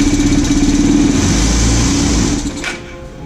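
A Vespa scooter engine, knocked over and flooded with oil and its injector disconnected, runs with a buzzing, revving drone up close, then sputters and fades as it winds down.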